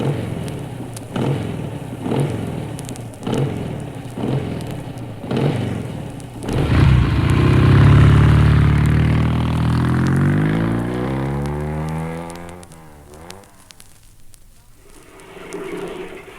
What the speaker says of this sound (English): Say when you think the motorbike is going to go.